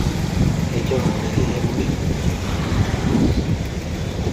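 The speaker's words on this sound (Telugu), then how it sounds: "చాలా స్పీడ్గా వస్తుంది నీళ్ళు." Fast-flowing Krishna river water rushes at the Prakasam Barrage in a loud, continuous broadband roar, mixed with wind buffeting the microphone.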